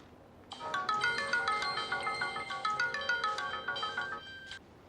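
A mobile phone ringtone plays a bright repeating electronic melody, loud and steady for about four seconds before cutting off, heard alone in a quiet room.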